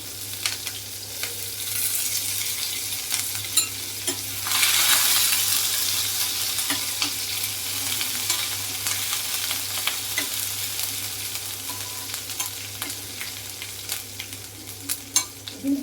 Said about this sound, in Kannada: 1 ನಿಮಿಷಗಳ ಕಾಲ ಇದು ಫ್ರೈ ಆಗಬೇಕು